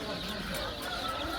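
Chickens cluck softly in a busy cluster, a faint continuous clucking chatter from several birds at once.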